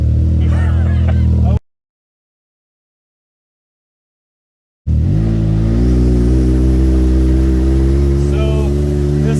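A car with a tuned 900cc turbocharged engine revs loudly and close with a deep droning tone, cut by a stretch of silence before the revving resumes with rising pitch.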